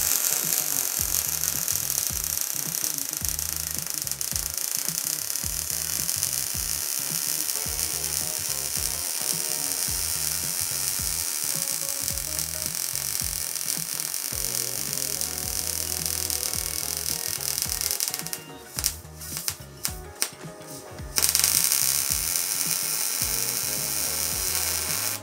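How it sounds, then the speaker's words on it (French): A welding torch lays beads on sheet metal in a DIY metal 3D printer, making a loud, continuous crackling buzz with a rhythmic mechanical pulse. It cuts out briefly near the end in a few sputters, then resumes, with no talk. "on peut jouer avec les réglages et comprendre quel réglage permet d'avoir un bon son de soudure"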